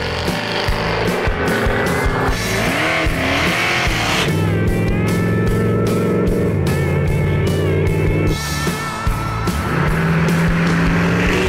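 A custom 1969 Ford F100 truck drives a twisty road near Greenville, its engine revving up and easing off through the bends with a loud, close, continuous motor drone and shifting pitch.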